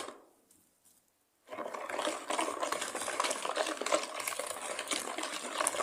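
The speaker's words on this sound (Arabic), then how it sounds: "نخلطهم اخواتي بهذا الشكل" Orange cake batter made with orange juice is stirred in a bowl: after a brief quiet start, steady wet scraping and swishing sounds continue close by without pause.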